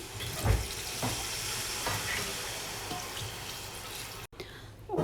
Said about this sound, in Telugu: నేను ఇక్కడ 2 లీటర్ వాటర్ యాడ్ చేస్తున్నానండి